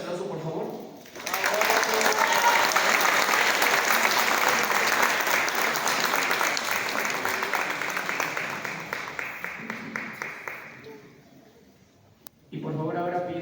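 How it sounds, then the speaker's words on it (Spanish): An audience at a centenary birth anniversary ceremony welcomes the Cuban ambassador to Mexico with loud, sustained applause that thins into scattered claps and fades, framed by a speaking voice at the start and end. "lo recibimos con un fuerte aplauso, por favor."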